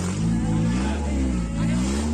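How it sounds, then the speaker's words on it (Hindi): A lowered car at a car limbo contest in Pekalongan revs its engine, a loud, steady, deep rumble with rising and falling harmonics throughout, close by. "कार का साउंड चेक करें, कार लिम्बो साउंड क्वालिटी"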